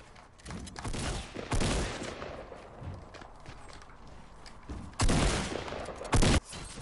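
Game gunfire from a squad match with a sniper and a player firing two revolvers: a few loud, sharp shots stand out at intervals over a steady background of game noise, with no talking.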